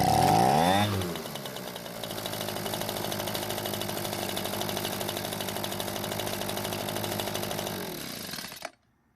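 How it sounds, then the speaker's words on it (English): An Echo leaf blower with a no-start fault after storage cranks, catches and roars into a steady, loud two-stroke run for several seconds, then abruptly cuts out as it runs dry. "let's try starting it."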